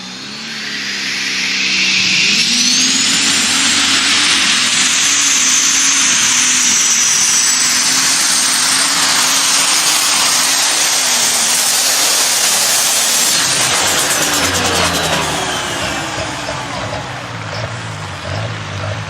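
A pulling tractor engine roars loudly and steadily at a tractor pull, a sustained heavy drone with a rising hiss that holds for most of the stretch before easing slightly near the end.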